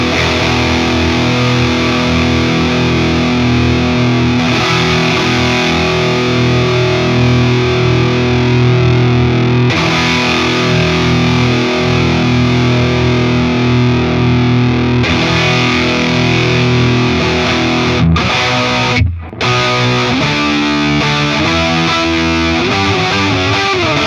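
An electric guitar played through an Orange-style amp model in STL Tones AmpHub, giving thick distorted chords that ring out in long sustained phrases, with a brief cut near the end.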